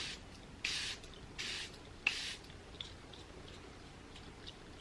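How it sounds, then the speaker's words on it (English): Charlotte Tilbury setting spray hisses in three short, close bursts spaced about a second apart, each a soft airy puff, followed by quiet with faint small clicks. "the setting spray, my Charlotte Tilbury, the best setting spray ever invented."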